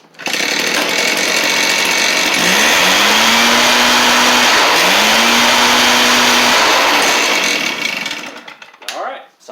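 A Stihl BR420C backpack leaf blower, freshly fitted with a Hipa carb kit, runs loud and close with a steady roaring whine that surges twice in revs before cutting off, followed by brief handling noise.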